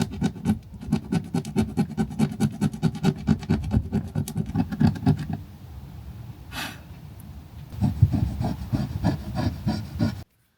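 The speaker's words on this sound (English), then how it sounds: "we're going to try use this little squeegee thing, scraper, to scrape off the rest of the silicone" Small squeegee-type scraper dragging old silicone off a surface on an RV, rapid repeated rasping strokes with a short pause midway before the scraping resumes, close by.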